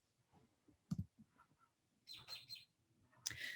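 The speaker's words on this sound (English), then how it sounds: "I don't know if you can hear the birds chirping in the background here" Birds chirping outdoors in spring, giving several short, bright, scattered calls at moderate distance against a quiet background.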